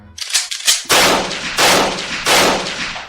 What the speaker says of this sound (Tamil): கோயில் மதில் சுவரில் கர்னல் பாஞ்சோரின் தலைமையில் 300 சிப்பாய்கள் சூழ்ந்து கொண்டு துப்பாக்கியால் துளைத்தெடுத்து விட்டனர்